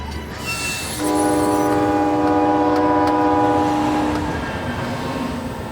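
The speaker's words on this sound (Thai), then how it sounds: "ในที่สุด รถไฟก็หยุดลง" A train brakes to a stop on the rails. Over a loud, steady rolling rumble, a sustained tonal squeal rises and holds for about three seconds, then fades as the noise eases.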